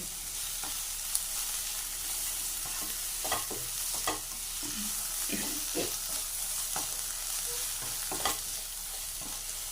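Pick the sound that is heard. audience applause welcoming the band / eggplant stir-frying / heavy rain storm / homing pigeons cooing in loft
eggplant stir-frying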